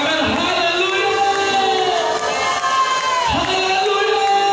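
A church congregation cheering hallelujah, a loud sustained crowd roar of many shouting voices blending together, continuous and near.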